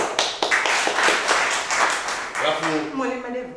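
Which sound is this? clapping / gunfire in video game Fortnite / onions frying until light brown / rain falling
clapping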